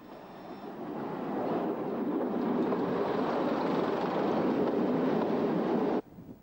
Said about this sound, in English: By 1957, the mainline trains were being hauled by the new A-class diesels in their striking silver livery